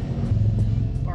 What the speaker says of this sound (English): Just how loud can I rev this?